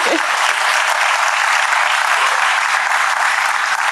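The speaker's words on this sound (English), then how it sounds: "I think they deserve a round of applause." Loud, sustained applause from an audience at a gathering on Nigerian women in national development, a thick unbroken roar of clapping hands that fills the whole stretch without letting up.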